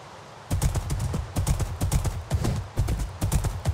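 Horse hooves clip-clop steadily across the ground in the Minecraft video game, a clear rhythmic sequence of close, moderately loud footfalls starting after a brief quiet moment.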